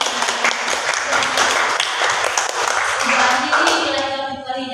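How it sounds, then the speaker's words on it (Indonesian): A class gives a final round of applause, with steady, dense clapping from many hands filling the room and voices mixed in beneath it. "Beri aplaus terakhir untuk kita semua"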